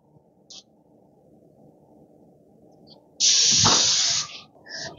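A Graco 695 airless paint sprayer lets out a sharp, loud burst of high-pressure spray hissing for about a second over a low mechanical hum, followed by shorter spurts, with tip blockages.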